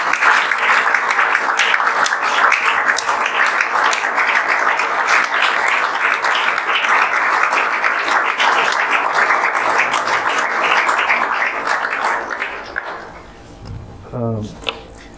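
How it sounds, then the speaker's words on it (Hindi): An audience at a JEE Main 2024 results event gives the teachers a long, loud, steady round of clapping that fades after about twelve seconds, followed by a brief voice. "सर लोगों के लिए एक बार जोरदार ताली बजा दीजिए"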